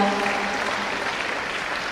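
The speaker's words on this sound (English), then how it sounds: "Let's give a big round of applause" Hall audience applause for a beneficiary at a state-level youth engagement program, a brief, dense and even burst of clapping at moderate loudness with no break.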